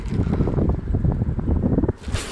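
Wind blows across a pond during a fishing outing, buffeting the microphone with a steady low roar that cuts off just before the end.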